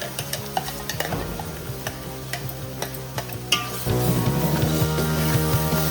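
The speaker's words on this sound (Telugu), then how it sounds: "టమాటా ప్యూరీ దీంట్లో వేసుకోవాలి." Tomato puree sizzles loudly in a curry pan for a tuna fish curry, with repeated scraping and clinking stirring strokes throughout and a louder, steadier frying hiss in the second half.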